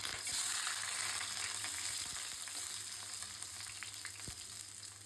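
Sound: onions frying in mustard oil in a kadai

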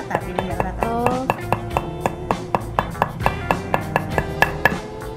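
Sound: pounding coconut leaf ribs for a craft

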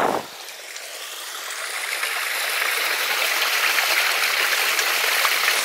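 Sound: stream flowing, start of the River Axe off Mendip Hills

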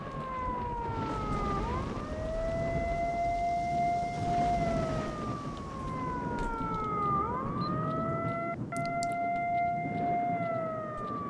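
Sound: alarm siren in the video game S.T.A.L.K.E.R.: Shadow of Chernobyl

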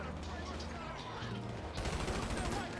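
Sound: gunfire in the video game GTA V

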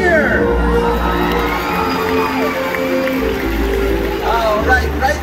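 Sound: audience cheering at SeaWorld orca show

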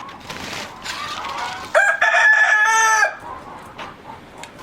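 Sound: ispenç rooster crowing

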